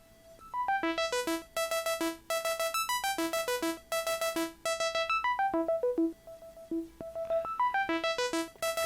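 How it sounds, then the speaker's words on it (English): A Minimoog-style synth tone patched on a Nord Micro Modular plays a repeating sequence of short, bright notes in a steady rhythm, its filter slowly sweeping so the timbre shifts between brighter and duller. "the filter is being swept slowly over time, so they can hear how it sounds"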